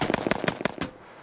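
A rapid burst of AK-47 rounds strikes an armored vehicle: about six sharp, loud cracks in quick, even succession, then an abrupt stop with a short fading tail.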